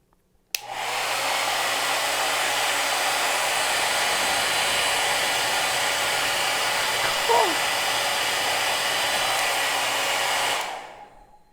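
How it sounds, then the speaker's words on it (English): A hair dryer switches on with a click and blows with a steady, strong whoosh for about ten seconds, then shuts off. "turn the hairdryer on so it's blowing steadily and strongly"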